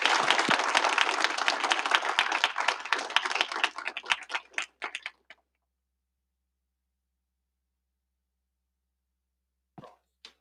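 Panel audience breaks into loud, dense applause for about five seconds, tapering to scattered claps before falling silent, then two isolated faint claps near the end.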